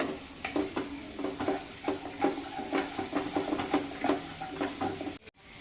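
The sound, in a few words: frying onion, garlic, chilli with ginger-garlic paste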